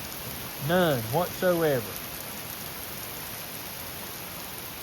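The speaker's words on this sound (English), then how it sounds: "Pouring down rain." Heavy rain pours down steadily in western North Carolina, a broad constant wash of drops on surfaces, with a brief burst of voice or animal call partway through.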